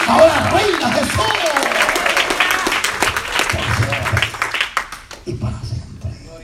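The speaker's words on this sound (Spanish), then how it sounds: "Dele fuerte este aplauso al Señor" A church congregation bursts into applause, clapping strongly under a preacher's loud voice and then thinning out toward the end.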